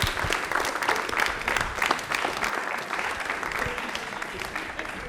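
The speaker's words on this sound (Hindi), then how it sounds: "राजेश्वरी जी के लिए तालियां प्लीज, जोरदार वाली होनी" Loud, steady applause from a studio audience for a contestant on a Rajasthani general-knowledge quiz show, dense clapping sustained throughout with faint background voices.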